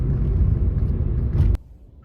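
Car driving on the Purvanchal Expressway toward Noida, heard from inside the cabin as a loud steady low rumble and road whir that cuts off abruptly near the end, leaving quiet.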